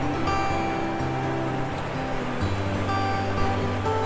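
Ocean surf rolls in at the hurricane-damaged Naples Pier, a steady roar of breaking waves with a low rumbling undertone, no voices.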